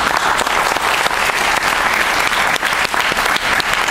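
A lecture-hall audience claps steadily and densely for a few seconds at a motivational talk, a full, continuous round of applause with no voices over it.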